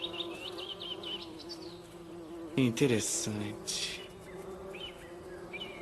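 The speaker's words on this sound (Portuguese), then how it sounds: "As abelhas se mantiveram bastante ocupadas limpando suas colmeias." Honeybees hum around their hives in a garden, a steady close buzz that swells briefly as insects pass near, while a person says a single word.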